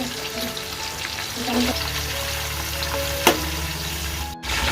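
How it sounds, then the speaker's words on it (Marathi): Onion and garlic tempering sizzle in hot oil for a big home meal of black-eyed peas, a continuous close frying hiss with a faint tonal hum and one sharp clink, no one speaking. "इथे सर्वात पहिले तर कांदा आणि लसणीची फोडणी देऊन घेतोय"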